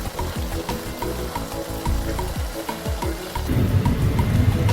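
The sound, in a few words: habanero pepper sauce cooking in oil in a pot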